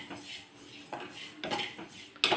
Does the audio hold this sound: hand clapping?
no